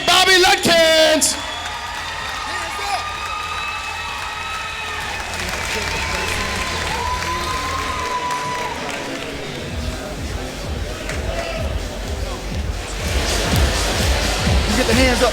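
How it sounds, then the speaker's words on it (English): A crowd at a local sporting event cheering and applauding a hometown champion, with sustained clapping and whoops mixed with voices and crowd noise that swell louder toward the end. "let's see one more big cheer for your hometown champ, Bobby Ledkins."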